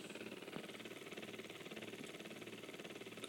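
A homemade replica Ossie motor runs steadily at roughly 600 to 700 RPM, giving a quiet, even mechanical hum with a fine rapid pulsing and no voices.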